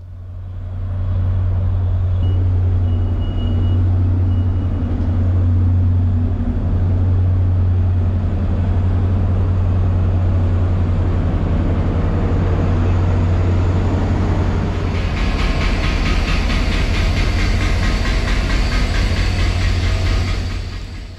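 Loud, steady low rumble and drone inside a UTA FrontRunner Bombardier bi-level commuter car hauled by an MP36PH-3C locomotive, with rolling noise growing brighter and harsher toward the end.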